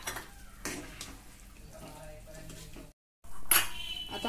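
Dal khichdi stirred in a pot after fresh coriander goes in, giving soft scraping and clinking of a spoon against the metal vessel, steady and close, with a brief dropout partway through.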